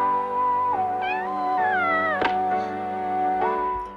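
A cat in the 1977 Japanese film House (Hausu) meows in a long, drawn-out, wavering cry, a sustained caterwaul with pitch bends and a brief sharp accent midway, loud and up close against a background music bed.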